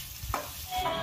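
Chicken frying in a pan during village-style outdoor cooking, a soft steady sizzle with a brief stirring scrape partway through.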